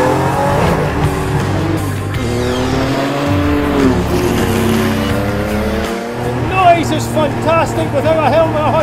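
A Porsche 993 GT2 race car drives with a loud, rising and falling engine note and brief dips as gears change, heard close from inside the car while someone talks over it.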